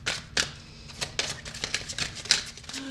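Tarot cards shuffled by hand make repeated crisp riffling flicks and soft slaps, about a dozen bursts in three seconds at an uneven rhythm, close and clear with no talking.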